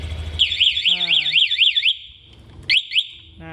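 An Alarm Nine A1 motorcycle alarm on a 2021 Honda Beat sounds a loud, rapid warbling electronic siren that cuts off, then gives a brief second chirp burst, with a person speaking over the sound.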